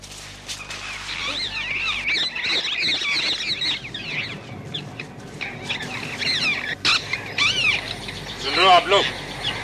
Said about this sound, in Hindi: सुन रहे हो चिड़िया की चीख पुकार?